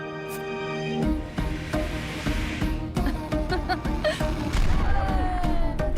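Cannon fires in the Planet Coaster game trailer, deep booms and blasts over busy music and effects, loud and continuous with layered bursts.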